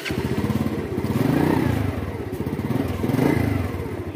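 A motorcycle engine runs close and loud with a rapid, pulsing idle that swells twice into stronger revs before settling back.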